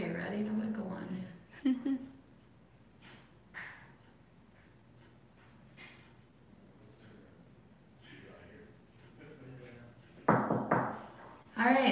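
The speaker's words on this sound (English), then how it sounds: "another coworker knocking" A coworker knocks on a door in a quiet room, a few soft raps scattered through the clip, with a burst of louder knocking near the end and hushed whispering voices.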